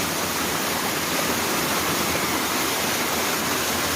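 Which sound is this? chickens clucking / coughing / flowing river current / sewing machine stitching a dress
flowing river current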